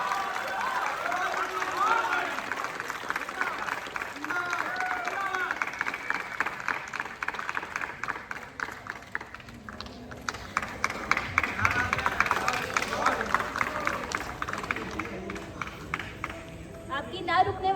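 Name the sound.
audience's unstoppable applause at a poetry event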